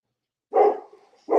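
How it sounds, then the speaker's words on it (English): Two sharp dog barks ring out nearby, separated by a brief pause and a short whimpering tail after the first. "Sorry about the barking, guys."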